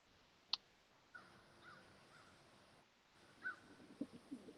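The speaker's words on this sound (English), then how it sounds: "can hear the crows in the background" Distant crows caw a few times against a quiet outdoor background, faint and scattered across the stretch.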